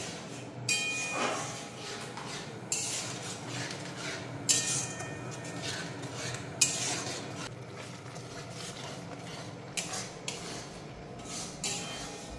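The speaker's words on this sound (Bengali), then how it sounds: "এখন আমি মশলার সাথে কাজু বাটা আর টমেটো বাটাটা ভালো করে কষিয়ে নেব" Masala with cashew paste and tomato paste being sautéed for paneer curry, heard as repeated scraping and clinking of a spoon against a pot, moderately close with irregular bursts and no talking.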